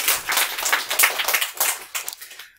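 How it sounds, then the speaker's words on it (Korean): A small lecture audience gives a short burst of clapping, lively and uneven hand claps that rise quickly, then thin out and stop within a couple of seconds. "박수"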